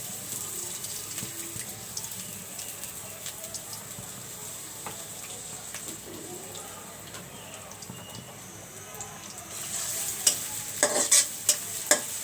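Bay leaves and mustard oil sizzling in a pan while cooking a Bangladeshi egg curry, a steady soft frying hiss with a few sharper crackles and pops near the end, no talking.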